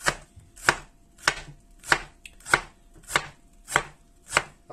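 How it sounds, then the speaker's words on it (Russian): A knife finely chops onion on a cutting board in a steady rhythm of eight sharp, evenly spaced chops about every half second, close and clear, with no one speaking. "А мы тем временем порежем лучок."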